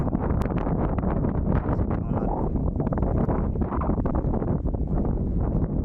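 Strong wind buffets the microphone at the hilltop Garudachalam Veera Narasimha Swamy temple, a dense, unbroken roar that fills the whole stretch and stays close and loud.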